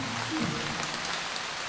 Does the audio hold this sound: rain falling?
yes